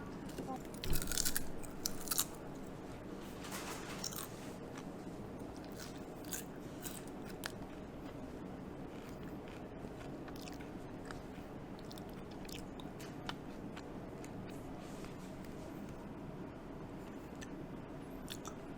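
Crunchy rainbow potato chips being bitten and chewed up close, with repeated crisp crunches at the start and softer chewing afterward, and faint talk in the background.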